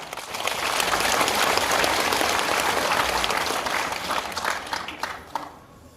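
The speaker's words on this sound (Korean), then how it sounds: "우리 한 박수 한번 칩시다" A hall audience applauds at the inauguration ceremony for the new director of the Yeongju Cultural Center. Full, even clapping swells quickly, holds for several seconds and then thins out toward the end, with no speech over it.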